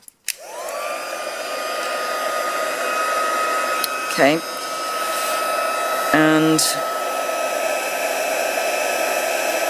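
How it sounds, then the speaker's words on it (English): An embossing heat tool spins up after a click and blows hot air with a constant loud whirring whine, close by. A few brief handling clatters cut in, and a short spoken word comes near the start. "Let's get the heat tool and warm that up."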